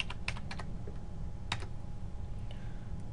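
Light keyboard taps on a computer during spreadsheet entry, a few quick isolated clicks in small clusters, faint and close over a steady low hum, with no talking.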